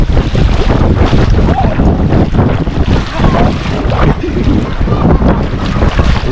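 Sea waves roll in at a Trinidad shoreline in loud, continuous surf. Heavy wind buffets the microphone throughout.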